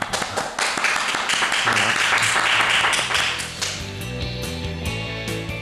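Audience applause at a Reporters Without Borders event, crisp rapid claps at first that swell into broad applause, then give way to music with a single spoken word near the start.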